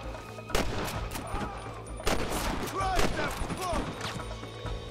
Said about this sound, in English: I guess we shoot him